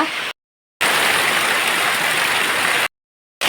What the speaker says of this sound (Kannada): ಎಲ್ಲದಕ್ಕಿಂತ ಜೋರು ಮಳೆ ಆಯಿತಾ, ಅಷ್ಟು ಮಳೆ ಬರ್ತಾ ಉಂಟು